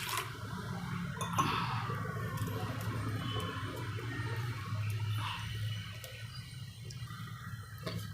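Water added to a spice paste of turmeric, garam masala and red chilli chutney for Gujarati dahi dapka, a close continuous pour with a splash and light clinks at the start.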